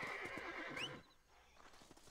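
A horse whinnies loudly with clopping hooves in Red Dead Redemption, a short, game-like neigh that fades into quieter ambient noise.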